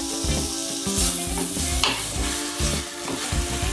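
Garlic frying in olive oil gives a bright, continuous sizzle that stays loud throughout, while clinks and stirring sounds are audible beneath it and a faint tonal hum runs under everything.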